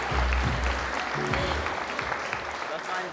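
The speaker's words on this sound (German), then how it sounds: "Applaus hier für beide Jungs." Applause for two amateur boxers after their bout, a busy spread of clapping in the venue mixed with loud voices of people speaking nearby.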